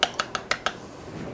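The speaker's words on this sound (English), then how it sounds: "I forgot to get a fork, so I'll just use this to mix it up here a little bit" An egg being beaten in a bowl with an improvised utensil in place of a fork, for sugar cookie dough: five quick, sharp clicks in a steady rhythm, then quiet.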